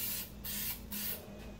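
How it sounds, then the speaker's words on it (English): Quick-drying spray adhesive hisses in three steady bursts onto car seat foam while a Rolls-Royce Silver Cloud's seats are reupholstered, each spray close and continuous with short breaks between. "I'm also going to spray the foam here, and this doesn't hurt the foam."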